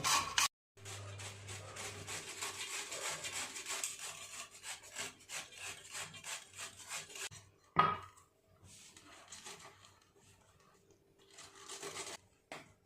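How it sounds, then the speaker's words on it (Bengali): Carrots for carrot halwa grated by hand, a steady rasping scrape repeated in quick strokes for most of the span, close and fairly loud, with a brief clatter partway through and a softer stretch of grating afterward. "গাজরগুলোকে আমি আগে এইভাবে ঘষে ঘষে গ্রেট করে নেব।"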